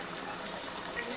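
A covered pot of fish roe curry bubbles at a steady low simmer, giving a soft, continuous watery burble close by with no talking.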